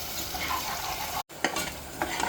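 Ginger and garlic fry in a pan and are stirred, giving a close sizzle broken by scraping strokes. There is a brief silent gap midway, then stirring resumes with sharper spatula knocks.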